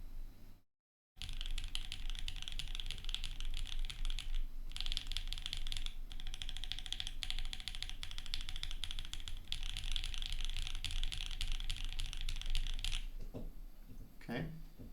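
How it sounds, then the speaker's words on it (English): Rapid clicky typing on a rebuilt Think6.5 v2 mechanical keyboard, a dense stream of close keystrokes running for about twelve seconds with brief pauses, then stopping. "Otherwise you won't hear the keyboard."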